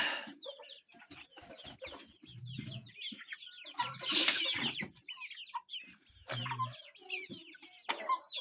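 Young chickens clucking in a backyard flock, with a rooster among them: a busy, irregular stream of near clucks and chirps, some louder bursts, and no talking.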